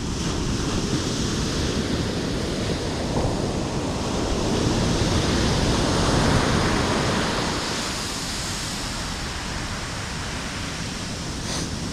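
Ocean swell breaks and washes continuously onto Blackpool Sands beach on a calm, windless day, a broad steady roar of surf that swells louder mid-way then eases slightly, with no voices.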